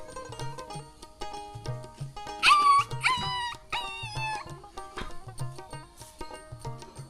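A dog lets out a few high, drawn-out whines in the middle, heard over steady rhythmic music.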